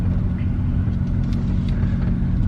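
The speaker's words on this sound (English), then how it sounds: "We're just going to go for a little drive in the A45." A Mercedes A45 AMG drives through an underground tunnel, its engine giving a steady, loud, low rumble that fills the enclosed space throughout, with no talking.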